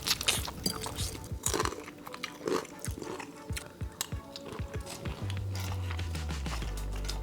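Crispy bacon at breakfast being bitten and chewed up close, with repeated sharp crunches in an uneven rhythm and a low hum joining near the end.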